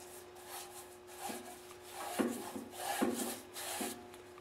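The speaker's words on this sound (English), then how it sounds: "And now I'll just start painting the chute." A paintbrush sweeps over a snowblower chute, making soft rubbing and scraping strokes in slow repeated passes, close and fairly quiet.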